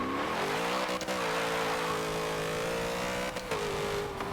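A 1993 Ford SVT Cobra R Foxbody with a drag tune in Forza Motorsport 7 drones steadily with a strained engine tone as its tires chirp briefly under hard acceleration, loud and close throughout.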